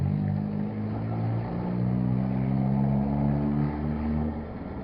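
Car with a broken exhaust, the pipe loose and hanging, gives off a loud, steady low rumble and drone that swells slightly midway and carries on continuously throughout.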